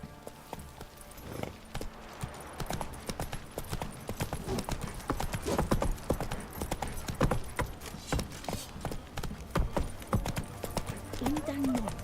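Hooves clip-clop on the ground as a horse gallops in The Witcher 3, sounding as a fast, irregular run of near, crisp impacts over game ambience, with a short voiced sound near the end.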